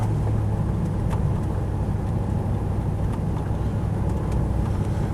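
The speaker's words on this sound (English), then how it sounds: "You can listen to that for hours, that engine." The V8 engine of a Land Rover Defender 90 50th Anniversary with an automatic box drones steadily and low as it drives, with constant wind buffeting the microphone. No voices.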